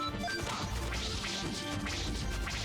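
A character's smashing attack lands in the Suikoden HD Remaster video game, as a dense run of loud crashing, thwacking impacts with whooshes layered over game music throughout.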